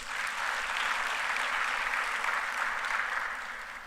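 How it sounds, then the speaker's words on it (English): Audience at a renewable energy conference opening ceremony claps steadily as a dense, even wash of applause that holds for several seconds before tapering slightly at the end. "Kindly, let's clap for ourselves."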